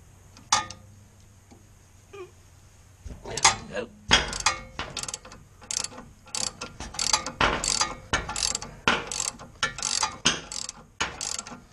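Ratchet wrench working the sway bar link nut on a 1999 Jaguar XK8, a few isolated clicks then a run of rapid, close ratcheting bursts, with no talking.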